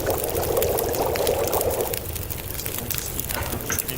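Water poured for a cup of herbal tea at an outdoor campfire, a steady splashing pour for about two seconds that then thins to a softer trickle, close and fairly loud, with no talking.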